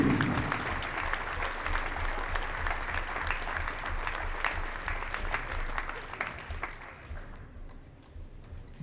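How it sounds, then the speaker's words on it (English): A gym crowd at a girls' high school basketball game bursts into sustained applause, dense clapping that holds steady and loud before thinning and fading toward the end. "Let's give everybody a round of applause."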